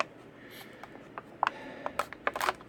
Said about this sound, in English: let's go ahead and cut it open and use my wood carving knife